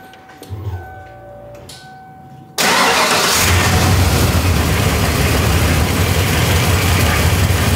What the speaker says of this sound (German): bevor wir den Motor jetzt gestartet haben